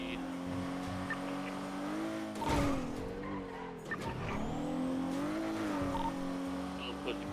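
A loud car engine in GTA 5 revs and drives through city streets, with tire squeals and shifting pitch as it accelerates and turns, running continuously under background noise.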